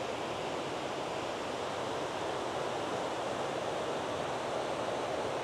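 A river near Presa de Taveras in the Dominican Republic rushes in a steady, dense, even wash of water noise that never breaks, with no voices.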